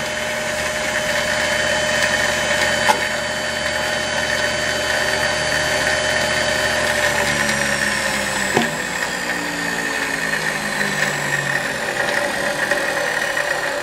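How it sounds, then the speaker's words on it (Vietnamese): A 72V 2200W DC electric motor for a cargo vehicle runs at full speed on 48 volts, giving a steady, smooth whine with an even hum that holds throughout, close and alone with no talk. "đây là anh chạy hết tốc độ và mới chỉ chạy ở điện áp 48 chưa chạy hết điện áp của nó"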